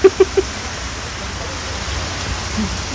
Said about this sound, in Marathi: मस्त बाहेर पाऊस सुरू झाला